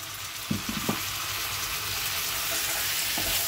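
A paste of tomato, onion, garlic and chili fries in a pan, giving a continuous loud sizzle with a few brief clinks and scrapes of stirring near the start.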